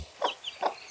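A mother hen clucks softly over her newly hatched chicks, three short close throaty clucks spaced at an uneven pace against a quiet background.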